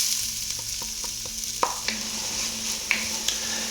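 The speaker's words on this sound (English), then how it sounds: "get that little bit of olive oil nice and smoking hot and go ahead and start sauteing off my onions" Onions sautéing in smoking hot olive oil, a steady close sizzle with a few clicking utensil taps and stirring scrapes through the clip.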